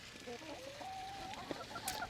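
Farm hens clucking softly nearby, a few rising and wavering calls over quiet background noise, with no speech.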